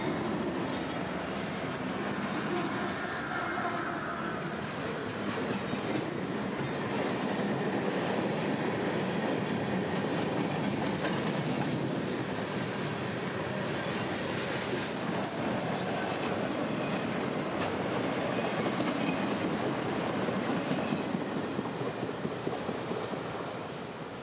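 A long southbound freight train led by an SD70 rebuild and GE wide-cab locomotives rumbles steadily past, its wheels clacking and occasionally squealing, loud and close throughout with no voices.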